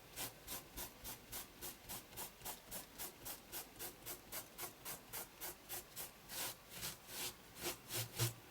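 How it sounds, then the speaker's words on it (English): A hand rubbing back and forth over paper to lift colour while making a paper doll card, producing a steady, even series of soft, close, hissing strokes about three per second, faint and without talk. "So I'm going to hold that down and then just give that a rub over and see if we can lift some of that colour."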